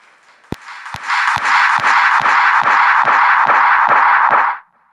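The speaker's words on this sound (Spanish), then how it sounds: "un aplauso por favor" An audience at a circular-economy festival session breaks into applause, a dense, steady wash of clapping with faint regular beats that swells in and then cuts off abruptly after about four seconds.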